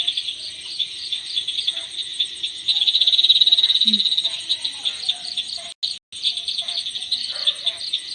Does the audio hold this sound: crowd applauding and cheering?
no